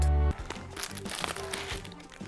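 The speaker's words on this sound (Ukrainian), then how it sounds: "Поїхали тепер робити розпаківку всіма відомими нашими українськими хлоп'ями, пластівцями." Plastic packaging of Ukrainian breakfast cereal flakes crinkles and rustles close by as it is unpacked, a steady crackling run after a brief low hum at the start.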